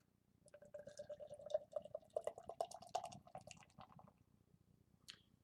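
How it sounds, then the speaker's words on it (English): Narragansett lager poured from a can into a glass, a close, quiet stream of gurgling and splashing that builds a thick head, ending in a short fizzy hiss. "Let's go ahead and give this one a pour and see what we're dealing with here."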